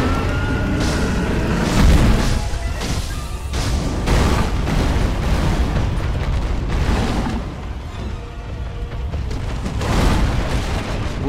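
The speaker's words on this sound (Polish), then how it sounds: "Na pewno petardy będą działały." Firecrackers explode in the video game Sekiro: Shadows Die Twice, a run of loud, overlapping booms and bursts rolling on continuously with brief swells of bigger blasts.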